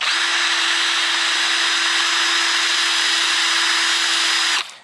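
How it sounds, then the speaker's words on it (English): A power drill spins a dowel against a sanding block with a steady, loud whirring whine and rasp for several seconds, then winds down. "hold it up and use the power of the drill to do all the work"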